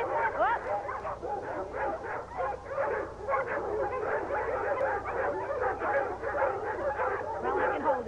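Many dogs in a humane society shelter bark, yip and whimper continuously in a loud, overlapping chorus of kennel noise, with people talking underneath.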